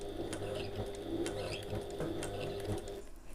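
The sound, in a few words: sewing machine sewing across the drawn line on a bag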